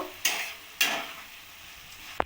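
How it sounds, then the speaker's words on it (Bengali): Palak paneer with kasuri methi is stirred in a pan, giving two scraping swishes over a soft steady sizzle and ending with a brief clink of the spoon, with no talk. "এবার পালং পনিরটা আমি ভালোভাবে নাড়িয়ে নেব"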